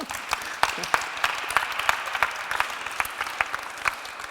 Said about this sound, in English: You can applaud to yourself.